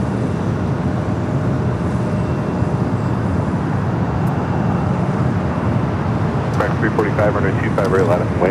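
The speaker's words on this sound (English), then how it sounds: "Delta Airlines Flight 996, a flight coming from Atlanta, Georgia. It's a 2-year-old A321 Neo is the next arrival" Continuous low rumble of a two-year-old Delta Airbus A321neo arriving on runway 25 left at Los Angeles airport, steady and moderately loud, with a voice speaking over it near the end.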